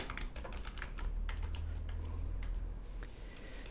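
Code is typed on a computer keyboard in quick uneven bursts of close, crisp key clicks with short pauses, faint and alone with no talking.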